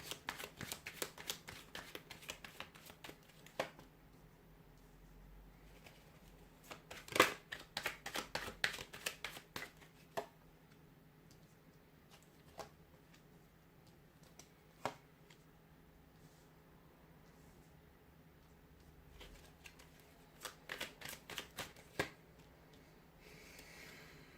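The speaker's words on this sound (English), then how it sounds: "We'll give the cards a shuffle and see what they're predicting for you" Crisp bursts of tarot cards being riffled and shuffled, coming in several separate clusters with quiet gaps between, close by and with no talking.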